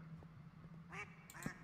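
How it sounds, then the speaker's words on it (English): A Minecraft duck quacks in a short burst of two calls over a steady low game hum, fairly close and clear, with a few soft clicks before it. "I am so confused why there's a duck down here."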